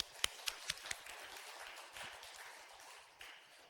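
Church congregation at a Sunday worship service breaks into applause, a few sharp separate claps up front giving way to a soft, sustained wash of clapping in a large room, moderately distant and fairly quiet.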